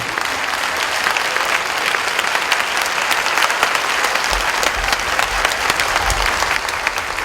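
A hall audience breaks into warm, continuous applause to welcome Supreme Master Ching Hai at a vegan event in Lomé, Togo; dense clapping holds steady throughout, with no voices over it.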